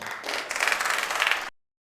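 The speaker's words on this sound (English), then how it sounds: "with a sounding round of applause" A short burst of conference audience clapping and applause lasting about a second and a half, then abrupt silence.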